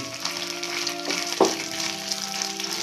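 Capsicum and onion fry in a pan with a steady close sizzle and a couple of brief stirring scrapes, while a low hum runs underneath.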